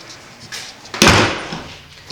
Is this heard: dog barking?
no